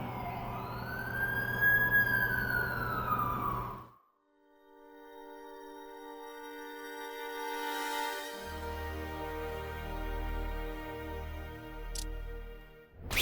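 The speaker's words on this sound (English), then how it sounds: "That's the ambulance I called." An ambulance siren in The Amazing Spider-Man 2 wails loudly with rising and falling sweeps, then cuts off abruptly; after a short quiet stretch, tonal game music and low rumbling sounds take over.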